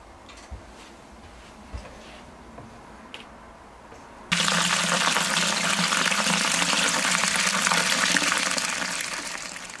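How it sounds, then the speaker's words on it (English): Cooled beer wort for a Lutra kveik pseudo lager pours into the fermenter, a loud steady rush of liquid that starts abruptly partway through and runs continuously after a quieter stretch with a few faint knocks. "so I'm going to start transferring across now."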